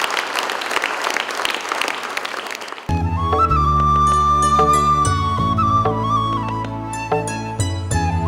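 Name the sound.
audience applause welcoming a guest to the stage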